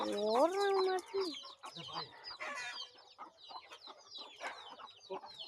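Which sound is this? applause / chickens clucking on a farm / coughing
chickens clucking on a farm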